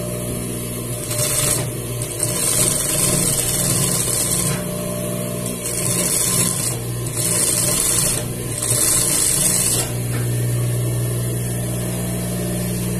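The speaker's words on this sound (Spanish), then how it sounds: "El forro es uno de los materiales que cuesta trabajo coser también en máquina recta" A straight-stitch sewing machine runs steadily through slippery lining fabric, its mechanical hum pulsing in a few short bursts and pauses over a constant low motor drone, close and fairly loud with no talking.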